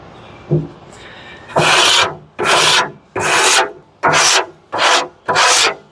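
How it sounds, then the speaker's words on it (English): Metal scraper dragged across smoker grill grates, six loud, harsh rasping strokes in a steady rhythm, each lasting about half a second, close up with no talk. "So I'm just gonna start scraping. And as you can see, that all came off the grates."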